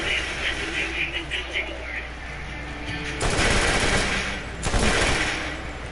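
Atlas gun firing in Borderlands, heard as two loud bursts of broadband gunfire with a chirpy game ambience before them.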